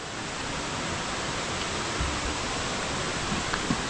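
Strong water flow rushing out through leaks at a crumbling village dam in Velas, a dense, steady roar close by with no breaks, a few faint knocks near the end.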